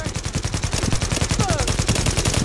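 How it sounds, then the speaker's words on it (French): Fast automatic gunfire from an enemy in a shooter video game, a rapid, evenly spaced stream of loud shots with no pause. "il y en a un autre qui tire, mais il tire d'où?"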